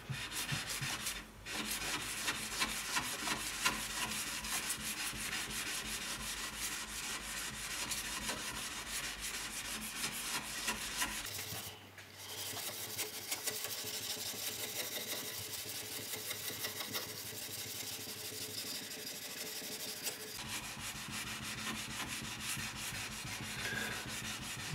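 An axe edge is sharpened convex on a wet whetstone, producing a continuous close gritty rubbing with rhythmic strokes and one brief pause partway through.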